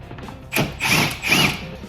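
A power tool backs out clutch cover bolts on a Polaris RZR 900, with two short loud whirring bursts of ratcheting spin, close by, separated by a brief gap.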